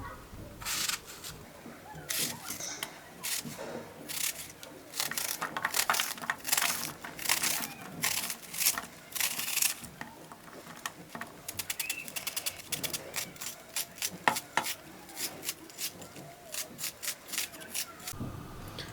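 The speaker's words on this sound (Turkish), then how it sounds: "Öncelikle bir tane soğanımı tavaya doğrayarak başlıyorum." An onion is cut by hand over a pan with a knife: irregular crisp cracks and crunchy slicing bursts, close, spread across the whole stretch with short pauses between runs of cuts.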